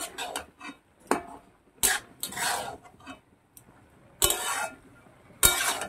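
Spinach with coriander powder is stirred in a pan, giving several sharp utensil clacks and scrapes against the metal, spaced irregularly and up close with no talking.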